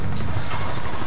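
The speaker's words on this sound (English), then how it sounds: "Cause I have a fucking chopper gunner now." Helicopter gunship rotor drone from the chopper gunner killstreak in Call of Duty: Modern Warfare, a loud steady low thumping whir filling the whole moment with no talk over it.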